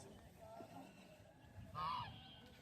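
Ducks for sale at a traditional rural village market in Dakop, Bangladesh, give a single short nasal honk near the end, over a low murmur of the market.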